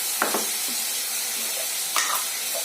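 A spice paste of cashew, raisin, melon seed, ginger and green chili sautés in a pan with a steady close sizzle and a couple of short stirring scrapes.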